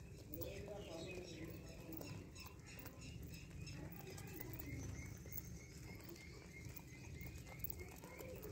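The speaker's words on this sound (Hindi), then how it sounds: "ये जनाब पट्टी वाले कबूतर, ये नायाब नस्ल के कबूतर हैं।" Pigeons of a rare banded breed, with faint coos, chirps and occasional wing flaps against a steady low background hum, while someone talks throughout.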